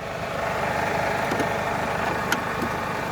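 A parked petrol car's engine idles steadily close by, a low even ticking rumble running alone without speech.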